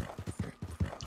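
Steady clip-clop of a flaxen chestnut Morgan horse's hooves in Red Dead Redemption 2, a quick even rhythm of several close, soft hoofbeats heard alone.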